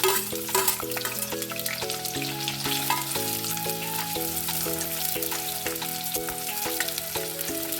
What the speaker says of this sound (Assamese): পিঁয়াজখিনি অকণমান ৰঙচুৱা হোৱালৈকে ভাজি ৰাখিম।